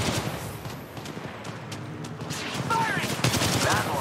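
Gunfire in Apex Legends Mobile: rapid bursts of shots crackling through a busy game mix, mid-level and continuous across the clip, with player chatter and other game effects layered over it.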